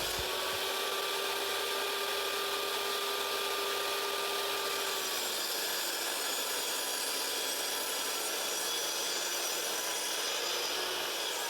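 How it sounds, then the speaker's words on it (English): Miter saw set to 45 degrees cutting a kitchen upstand, a continuous loud whining blade roar with rasping cut noise that shifts pitch partway through as the cut progresses. "Then proceed to carefully cut the upstands with the back facing upwards."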